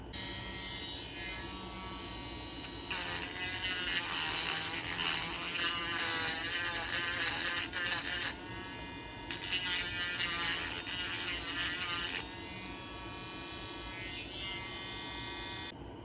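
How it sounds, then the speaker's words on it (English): A small rotary grinding tool shaves material from a Scalextric slot car part for a Camaro build, giving a high, thin buzzing whine that rises and falls in pitch as pressure changes, running continuously without speech. "my plan is to just slowly grind out the material until that slips up in there"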